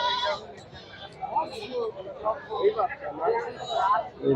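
Goats bleat repeatedly at a busy goat market amid a crowd of buyers and sellers talking nearby, their cries rising over the chatter.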